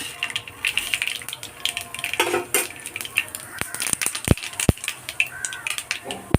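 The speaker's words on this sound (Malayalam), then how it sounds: "എണ്ണ ചൂടായിട്ടുണ്ട് ഇനി ഇതിലേക്ക് കടുക് ഇട്ട് കൊടുക്കാം" Mustard seeds drop into hot coconut oil in a pan, crackling and popping in sharp, irregular clicks with a few louder snaps, over a quiet kitchen background.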